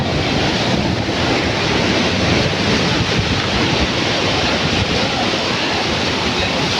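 Sea waves crash on the beach at Pondicherry in a loud, dense, continuous roar of surf with wind buffeting the microphone, unbroken and without voices.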